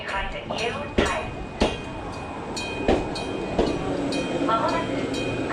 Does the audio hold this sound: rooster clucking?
no